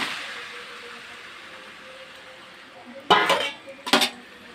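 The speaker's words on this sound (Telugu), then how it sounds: "ఇప్పుడు నేను చికెన్ దాంట్లో వేసేసుకుంటున్నాను" Pieces of chicken dropped into a hot cooking pan: after a quiet stretch of faint background hiss, two loud, close bursts of clattering and sizzling follow in quick succession.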